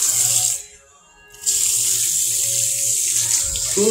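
Water runs steadily from a tap into a sink, a continuous loud hiss that cuts off briefly for about a second and then resumes at full flow.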